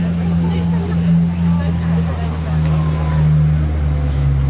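A deep engine drone hums steadily and grows slightly louder as a McLaren Senna approaches, with a crowd murmuring in the background.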